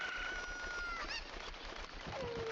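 A chicken clucks and crows in the Zelda Ocarina of Time video game. The calls are faint, sound alone and come with a few tonal game sounds.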